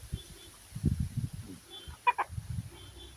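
A male chicken clucks in low, close, irregular bursts, with a sharper call partway through and faint ambient tones behind.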